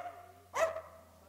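A small police drug-detection dog gives one short, sharp bark close by against a quiet background hum.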